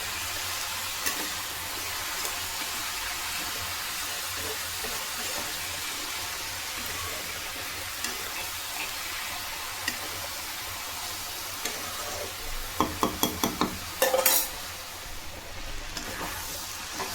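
Cabbage fries in a wok under a constant soft hiss, then near the end a burst of quick rhythmic scraping and knocking as it is stirred.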